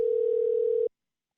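An outgoing phone call's ringback tone sounds while waiting for an answer, a single steady pure tone held for just under a second before cutting off into silence.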